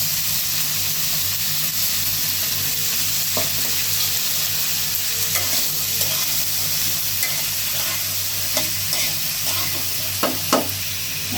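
Sliced onion hits hot oil already holding green chillies, garlic and potato, frying with a steady bright sizzle, while a spoon stirs and scrapes the pan now and then, close up and with no talking.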